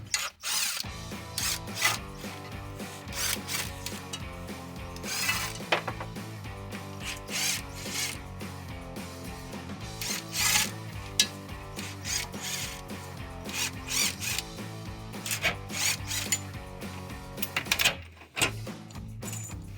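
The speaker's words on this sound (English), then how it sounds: "if you have an electric tool, it makes it go faster now that they're loose" An electric tool spins out the loose differential cover bolts on a 2011-2014 Ford Mustang V6, making a steady whirring, ratcheting mechanical drone with repeated stops and starts, close and fairly loud, with no talking.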